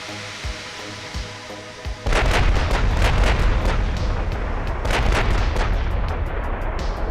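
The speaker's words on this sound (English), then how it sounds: "You shoot roughly where you would assume the enemy is" Big battleship guns firing in the naval warfare game Ultimate Admiral: Dreadnoughts, a few faint thumps giving way to a sudden loud roaring barrage of booming blasts with repeated sharp reports, sustained and close.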